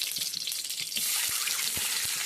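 Boiled eggs frying in oil in a kadai for egg curry, with a quiet bubbling sizzle and a few soft taps and pops close by, and no speech.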